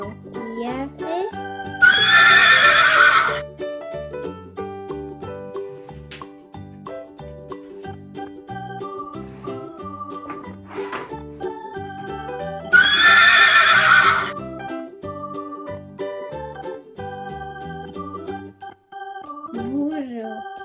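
A young foal neighs twice, each whinny a loud, shrill burst about ten seconds apart, with soft hoof clip-clop and a light musical backing between the calls.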